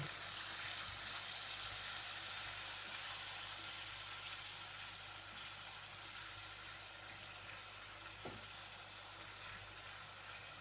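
Spices fry in a pan for hilsa fish curry with a faint, continuous sizzling hiss and one brief scrape near the end.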